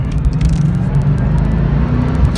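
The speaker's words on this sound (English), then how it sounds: "There is nothing like manually shifting a big V8, I can tell you that." A 1996 Chevrolet Corvette Collector's Edition with a big V8 and six-speed manual, driven hard with a loud, close, continuous engine rumble and road roar carrying evenly throughout.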